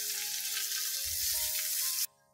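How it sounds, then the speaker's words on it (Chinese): Chicken thighs pan-frying in a wok give a loud, steady sizzle that runs unbroken for about two seconds with no talking, then cuts off abruptly. "煎到佢啲皮有少有色啊，咁就 OK 啦。"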